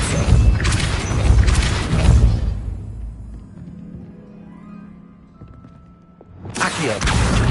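Spell blasts from casting Depulso in Hogwarts Legacy: a loud booming, whooshing burst that fades into a quieter stretch before a second loud impact bursts in near the end.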